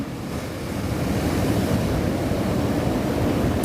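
Ocean surf breaking at St Mike's beach, a steady, loud broadband roar of waves close by that swells in over the first second and then holds, with wind buffeting the microphone.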